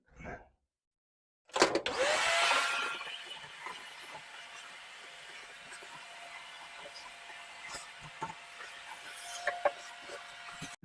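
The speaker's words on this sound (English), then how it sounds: "Now let's vacuum this mess up." A vacuum cleaner starts up with a loud surge, sucking up dryer lint during a dryer vent cleaning, then settles into a steady whine with scattered rattles and clicks of debris, following a short earlier bump and silence.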